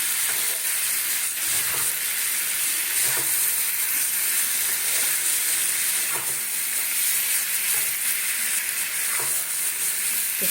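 Boiled and pre-fried potatoes sizzling in a pan with a steady, loud hiss and occasional soft stirring bumps, close and continuous with no voices.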